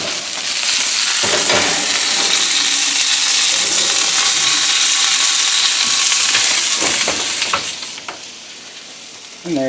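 Steak sizzling in a camp stove oven, a loud, continuous hiss and crackle of frying that fades slightly near the end.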